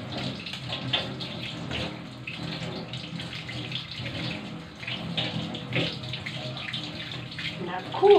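Tap water running steadily into a sink while soil is washed off ginger, a continuous splashing gush with shifting texture as hands move through the stream.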